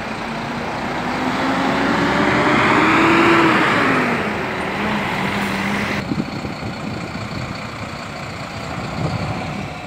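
An interstate coach rolls past at the Brasília bus station, a rising and falling engine drone with gear-shifting whine, loudest mid-pass, then settling into steady station traffic rumble.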